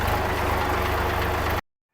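A farm tractor engine runs steadily as it is driven slowly through a field, a loud, continuous low rumble with an even idling throb that cuts off abruptly near the end.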